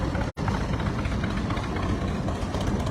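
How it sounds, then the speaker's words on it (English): A 1912 International Harvester Mogul 45 tractor engine in original condition runs steadily through an antique power show parade, a loud continuous low rumble that fills the whole clip with no talking. "So he's behind the steering wheel helping to navigate that tractor through the parade route."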